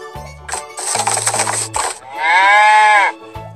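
A cow moos once in a long, loud sustained call near the end, preceded by other bleating animal cries, with a plinking musical backing in an animal-sounds game for children.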